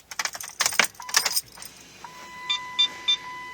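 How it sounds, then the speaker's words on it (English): Keys jangle briskly in a Dodge Caliber ignition as the key is turned, followed by a steady electronic tone and three short beeps from the car, close up with no talking. "I'm going to go ahead and turn the key on in the ignition."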